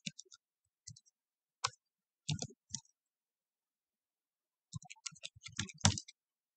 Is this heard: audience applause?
no